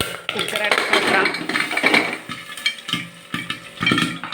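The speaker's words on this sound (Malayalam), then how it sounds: "അത് പൊട്ടുന്ന സൗണ്ടാണ് കേൾക്കുന്നത്" Corn kernels pop inside a closed pressure cooker on a gas stove, muffled knocks and sharp cracks scattered irregularly while a person talks over them.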